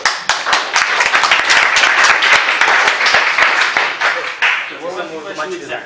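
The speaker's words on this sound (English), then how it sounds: "Background of applause, please." Lively applause from a group at a startup event, loud at first then tapering off, with voices starting to talk as the clapping fades near the end.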